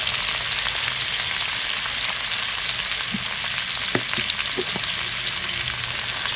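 Chicken frying with a paste in a pan while making korma for biryani, a dense, loud, continuous sizzle with a few soft stirring knocks near the middle, with no talk.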